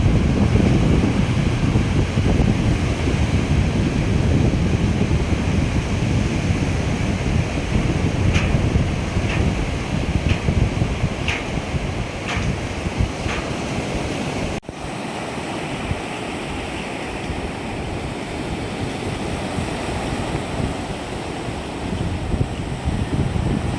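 Steady, loud sea waves roll and wash continuously, mixed with wind buffeting the microphone, a broad rushing surf that holds without a break throughout.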